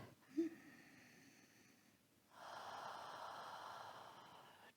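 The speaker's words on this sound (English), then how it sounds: "So deep breaths here." Deep breathing during a knee stretching exercise: a sharp nasal intake at first, then a long, steady, airy exhale heard close and quiet.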